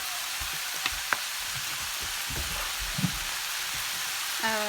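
Mama noodles are stir-fried with sauces in a pan, giving a steady soft sizzle with occasional light scraping clicks of the utensil. The sound is close and quiet and carries no talk.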